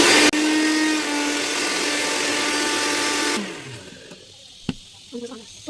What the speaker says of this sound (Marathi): मी मिक्सरमध्ये ग्राइंड करणार आहे.